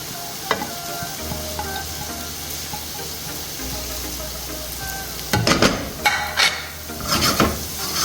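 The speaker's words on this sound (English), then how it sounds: "after sauteing it for 5 minutes to soften the carrots" Carrots for Filipino spaghetti sauté in a pan with a constant close sizzle, a low hum beneath, then a burst of loud scraping and clanking stirs near the end.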